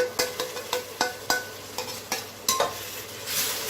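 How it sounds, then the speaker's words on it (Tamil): A ground paste of shallots, cinnamon and cloves is stirred into sautéing onions for a mutton dish: rhythmic spatula scrapes roughly twice a second over a soft sizzle, close and without speech. "இதையும் சேர்த்து நல்லா வதக்கிக்கலாம்"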